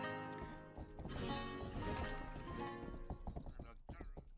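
Hooves clip-clop rhythmically from a horse in the video game Rustler, a steady trot under busy game music and effects, with a voice speaking briefly.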